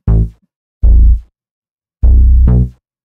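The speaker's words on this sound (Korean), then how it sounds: "벌스 베이스는 들어보시게 되면" Three deep, punchy synth bass notes from the verse of a song play alone, each short and separated by silence, with the last splitting into two quick hits.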